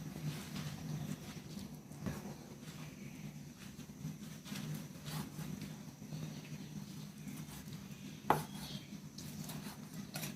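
A knife slices through soft cooked beef tongue on a cutting board, with repeated quiet cuts and taps and one sharper knock near the end.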